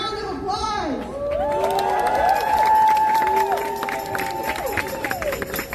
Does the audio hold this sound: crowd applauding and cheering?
yes